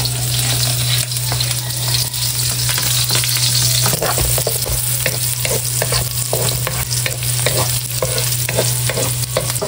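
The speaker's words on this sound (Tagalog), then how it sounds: "Igigisa na po niya yung ricado. Bawang, sibuyas, luya, at saka po yan ay may, may sili." Garlic, onion, ginger and chili sauté in a hot pan for chicken adobo, making a loud continuous sizzle with repeated scraping and stirring noises throughout.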